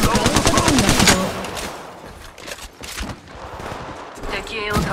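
Rapid automatic gunfire from the Apex Legends Mobile video game, loud bursts of repeated shots near the start and then sporadic firing with game effects, while short voice callouts sound in between.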